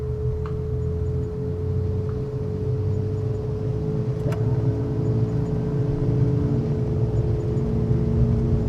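Airliner engines throttling up for takeoff in a flight simulator game, a steady droning hum with a constant tone that builds slightly in loudness, with no voices.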